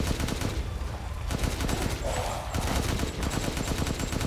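Rapid gunfire while shooting enemies in Resident Evil Village, a dense, continuous run of evenly spaced shots that stays loud for several seconds, with a voice faintly underneath.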